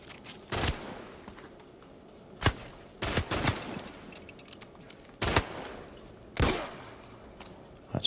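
Gunshots in The Last of Us: Left Behind DLC, about five loud, sharp reports at irregular intervals with quiet ambience between them.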